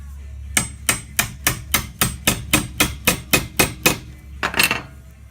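Steady mallet blows on a chisel cutting a mortise in wood, about a dozen sharp evenly spaced strikes, close and loud, followed by a short pause and a quick cluster of lighter taps.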